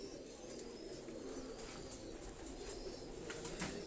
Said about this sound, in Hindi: ये देखो कबूतर उड़ रहे हैं।